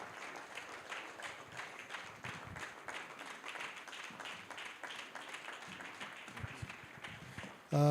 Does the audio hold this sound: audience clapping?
yes